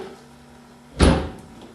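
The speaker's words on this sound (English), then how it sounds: "you're going to want to wiggle it around a little bit until that knob falls into that slot on top of the differential. It's going to make a bit of a clunk" A spring-loaded knob drops into its slot on top of a vehicle differential, giving a single close, loud metallic clunk that rings out briefly with no talking.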